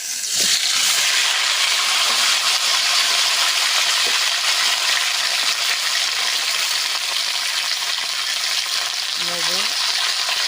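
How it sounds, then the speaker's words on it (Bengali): Potato and taro fry loudly in mustard oil in a wok, a dense, constant sizzle and hiss heard up close, with brief stirring clinks near the start and end. "এবার ঝোলের জন্য আলু আর কচু ভাজার জন্য কড়াইতে দিয়ে দেবো সরষের তেল"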